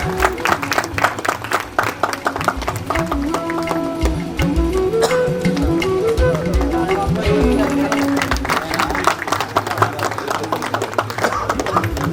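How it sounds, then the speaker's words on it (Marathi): An audience claps in a steady, dense patter of many hands that continues throughout, loud and close, mixed with a background of tonal sound. "टाळ्या वाजल्या गेल्या पाहिजे"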